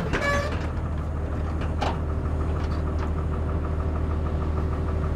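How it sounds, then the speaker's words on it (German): A tractor engine runs steadily on a family farm during a hot harvest, a loud continuous droning rumble with a few faint clanks and squeaks on top, close by. "Auf dem Trecker sitzt Jens Neffe, Tade."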